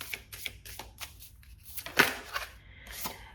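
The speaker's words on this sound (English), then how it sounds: "Let's get you one more card from your angels." Cards from an oracle deck are shuffled and drawn, giving a quick series of crisp, close taps, flicks and slaps in an uneven rhythm, with no talking.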